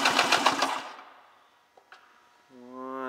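A 1999 Polaris X45 1200 carbureted engine cranks over on its mag-side cylinder during a compression test, a quick, loud run of rapid rhythmic turning pulses that stops after under a second, followed by quiet and then a steady tone.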